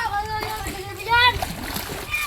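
Water splashing as children bathe in the sea, with excited talk and shouts over it, fairly close.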